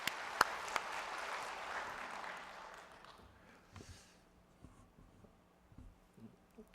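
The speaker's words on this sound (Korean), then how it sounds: "박수로 인사하겠습니다" During a Sunday church service, the congregation claps to welcome the preacher. The applause is moderately loud for about three seconds, then fades into quiet room noise with a few faint knocks and rustles.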